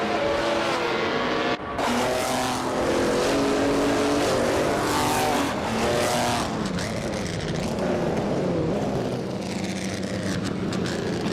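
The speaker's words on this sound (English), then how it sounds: "driving a 1950 Ferrari 125 F1" A 1950 Ferrari 125 F1 and other racing cars in a video game roar continuously and loudly, engines revving up and down with shifting pitch and occasional tire squeal.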